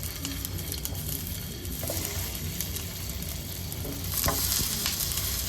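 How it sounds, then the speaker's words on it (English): Vegan sausages sizzle in a hot pan beside potatoes, a loud continuous close frying crackle with small pops and a brief rise in intensity toward the end. "We're just gonna add these to the pan, y'all, like this."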